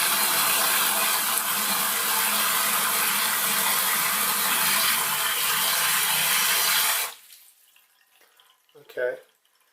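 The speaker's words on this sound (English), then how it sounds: "we're just going to see how fast it takes to fill this 3 litre pan" Water pours steadily through a Torbeck fill valve into a 3 litre pan for several seconds as a loud, even rushing gush, then cuts off abruptly, leaving a few faint drips and small clinks.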